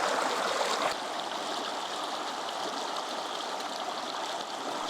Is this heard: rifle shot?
no